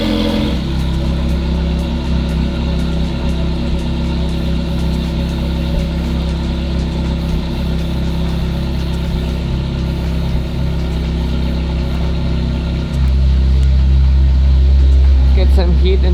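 A Stingray C2 Corvette, recently troubled by battery problems, idles close up while warming, its steady rumbling throb turning noticeably louder and deeper in the last few seconds.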